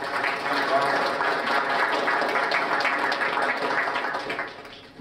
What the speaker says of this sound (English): So let's have a really nice big round of applause for Laura